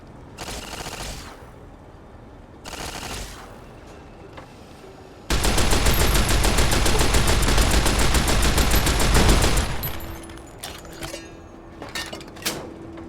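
Gunfire in Fallout: New Vegas, with two short bursts followed by a sustained, loud barrage of rapid automatic fire lasting several seconds, then scattered sharp shots trailing off.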